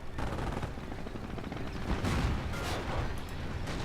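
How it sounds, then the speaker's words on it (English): Battle noise from Company of Heroes with the OMGmod, dense bursts of gunfire and machine-gun rattle with booming explosions layered over a constant roar, loud and close throughout. "More explosions coming down in the middle here."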